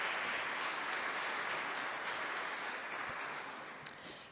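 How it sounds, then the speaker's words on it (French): A conference audience applauds a talk with a dense, even wash of clapping from many hands that holds steady and then begins to thin toward the end. "Je pense qu'on peut vraiment l'applaudir beaucoup"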